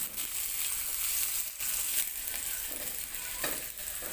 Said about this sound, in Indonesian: Panaskan minyak goreng secukupnya, masukkan dahulu bawang merah dan bawang putih, lalu tumis hingga layu dan aromanya harum